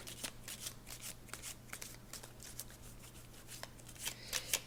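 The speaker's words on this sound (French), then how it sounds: "je vais mélanger les cartes" A deck of tarot cards being shuffled by hand, a quick series of crisp riffles and flutters, close and quiet in a calm room.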